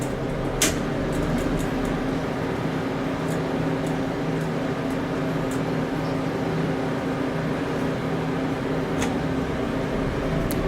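Original 1981 General Oiltronic hydraulic elevator at a resort riding upward, a steady low mechanical hum with a constant pump drone and faint occasional clicks and ticks, no voices over it.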